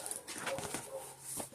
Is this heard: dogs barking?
yes